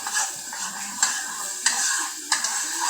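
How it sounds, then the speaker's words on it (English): Onions sauteing in a few tablespoons of vegetable oil in a pan for a breakfast pie, a steady soft sizzle broken by four sharp utensil scrapes and clinks against the pan, close up. "I want these onions to go ahead and saute as soon as possible"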